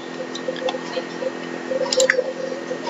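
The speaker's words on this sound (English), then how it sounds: "Nearly finished cleaning the door." In The Sims 3, a character scrubs a door, making soft, wet squishing and dripping cleaning sounds over a steady game background hum, with a few brighter blips near the end.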